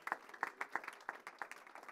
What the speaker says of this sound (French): On peut encore les applaudir très fort.